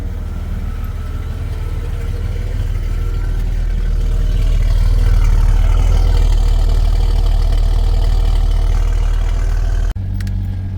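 A 1987 Jeep XJ engine idles steadily just after startup, a loud, close, continuous rumble that swells slightly partway through and cuts off abruptly near the end.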